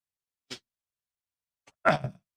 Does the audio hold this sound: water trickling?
no